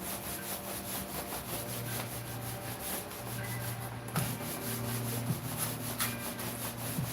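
Paint is rubbed by hand into a piece in a steady, quiet back-and-forth scrubbing rhythm, with faint light knocks near the end and no voices.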